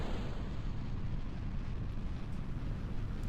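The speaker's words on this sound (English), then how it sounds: "let me actually launch my first rocket for this playthrough" Rocket launch in Kerbal Space Program: a continuous, loud, broadband engine roar that holds steady throughout without a break.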